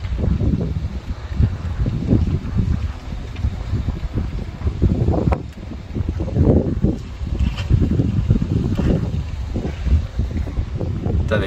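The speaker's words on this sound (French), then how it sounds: "avec le vent ça donne vraiment une ambiance blizzard" Strong gusting wind during a snowstorm in Grenoble, Isère, a continuous loud roar with heavy wind buffeting across the microphone, surging and easing in waves throughout without a break.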